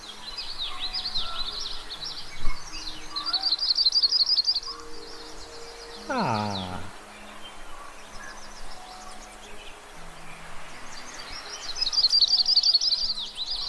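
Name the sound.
yellow-rumped warbler song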